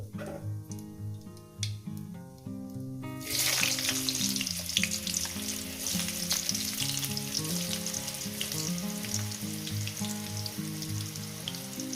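Potatoes drop into oil after a cumin tempering, and a quiet hum suddenly bursts into a loud, dense sizzle that continues close and steady with crackling pops.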